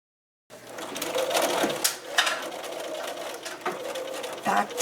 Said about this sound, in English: We're going to sew close to the fold